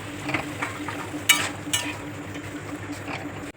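Mixed vegetables cook in a pan with a little water added, giving a soft steady sizzle with a couple of sharper splashes and clinks from stirring.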